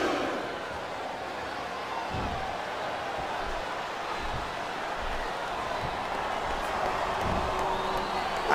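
A wrestling arena crowd at a WWE Cyber Sunday 2007 match between The Undertaker and Batista murmurs and rumbles as a steady wash of noise, with a few dull thuds, under faint commentary.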